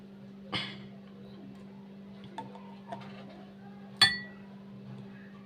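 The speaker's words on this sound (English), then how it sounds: "So next, I'm going to put 2 teaspoons of honey into the cup." A teaspoon clinks against a cup while honey goes into ginger tea, with one sharp chime early, two light ticks in the middle and a louder clink near the end, all over a steady low hum.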